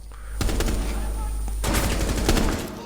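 Rapid automatic gunfire in the video game Rainbow Six Siege, loud sustained bursts of shots filling the whole moment with dense crackling fire.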